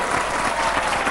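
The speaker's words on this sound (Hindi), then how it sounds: "एक बार जोरदार तालियां तीनों के लिए।" Audience applause at a Hindi talk-show gathering, a dense, steady wash of many hands clapping, loud and close, filling the whole moment without a break.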